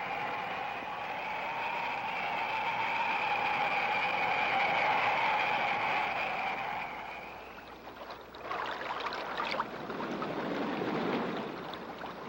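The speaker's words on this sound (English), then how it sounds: "Running streams." Steady rushing water like a running stream fills the scene, with a constant broadband wash carrying a couple of tonal layers, then shifting to a splashier, more turbulent gurgle near the end; no talking.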